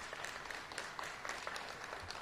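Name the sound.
applause for the building contractors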